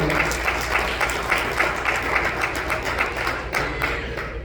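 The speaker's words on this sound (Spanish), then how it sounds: "Denle una ofrenda de palmas al Señor, hermanos." Church congregation applauding together during a Spanish-language sermon, a steady rolling wave of many hands clapping that fills the room and continues throughout at even loudness.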